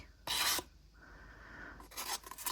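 Leftover acrylic paint being scraped out of small cups for a dirty pour, giving two loud rasping scrapes with a quieter scraping stretch between them, close up and with no talking.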